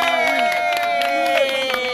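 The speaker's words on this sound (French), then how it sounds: "Déjà un tonnerre d'applaudissements pour toutes les femmes d'abord." Audience cheering and clapping for the women at a live show, a dense crowd roar with scattered claps blended under tonal music and voices, steady and fairly loud throughout.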